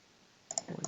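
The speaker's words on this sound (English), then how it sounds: "Double click on the part." Two quick mouse clicks land in close succession inside robot simulation software, sharp and near, followed by a few softer clicks, with no talking.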